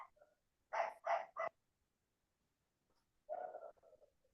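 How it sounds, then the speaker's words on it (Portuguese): A dog barks in the background behind an open microphone, three quick faint barks, then a softer yelp a couple of seconds later, no talk. "Tem o microfone aberto, o cachorro latindo, é difícil falar."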